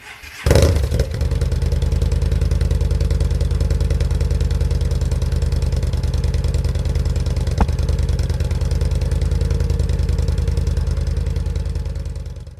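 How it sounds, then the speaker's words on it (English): A 2013 Yamaha V-Star 950 motorcycle with its factory exhaust starts up and settles into a steady, loud, throbbing idle close by, holding an even rumble throughout without revving. "So here we are with the factory exhaust."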